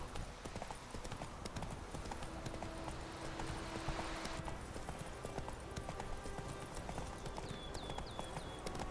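A horse's hooves clip-clop at a steady trot in The Witcher 3, close and continuous, with a brief whinny and game ambience mixed underneath.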